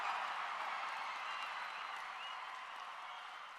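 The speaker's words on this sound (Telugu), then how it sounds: "లేచి చప్పట్లు బాగానే కొట్టాడు" Sustained applause from a large audience at a university centenary celebration, a dense, even wash of clapping that holds steady and fades slightly toward the end.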